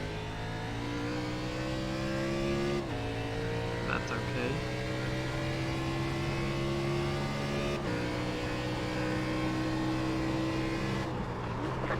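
Race car engine in iRacing sim racing at the Charlotte Roval, a steady droning whine that holds pitch and then drops at two gear shifts, loud and continuous, with a brief spoken remark over it.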